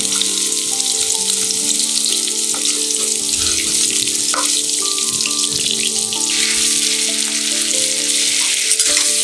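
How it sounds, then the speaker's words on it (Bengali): Oil sizzles and crackles continuously as onions fry close by, a dense steady hiss over a faint low humming drone. "পেঁয়াজটাকে এবার আমি হালকা ব্রাউন করে ভেজে নেব তেলের মধ্যে বেশ ভালোভাবে"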